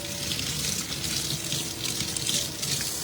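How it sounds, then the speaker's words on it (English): Tap water runs steadily as a paint brush is rinsed after lathering with brush soap, a close continuous splashing stream into a sink with no talking. "just lathering it up, and then just rinsing it"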